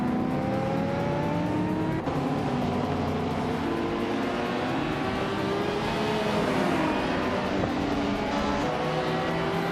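Race cars, among them a Mazda RX-7 and an Alfa Romeo 75, roar around a tight circuit, engine notes rising and falling through gear changes as several machines scream past continuously at close range.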